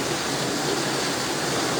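Steady rushing floodwater pouring down from higher ground during Typhoon Carina, a dense unbroken wash of water noise, close and fairly loud.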